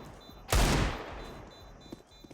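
A loud single Desert Eagle shot or tight burst rings out in a professional Counter-Strike match on the Ancient map, cracking sharply and then decaying into softer ambient game noise with faint clicks.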